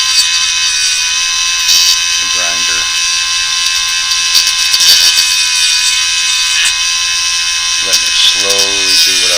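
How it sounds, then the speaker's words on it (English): A grinder runs with a steady high-pitched whine while lightly shaping a plastic mouse fishing lure. Someone talks briefly over it at intervals. "I'm just barely touching the plastic to the grinder."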